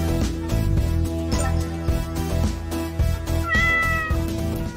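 Repeated meows from a cat in a find-the-cat PC game, several distinct cries in a row over layered background music, clear and close with no talking.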